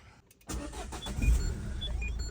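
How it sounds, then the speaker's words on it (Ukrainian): The 1.5-litre diesel engine of a 2012 Renault Megane cranks and catches after a moment of quiet, then settles into a steady, rumbling idle close by. "Автомобіль у нас завівся"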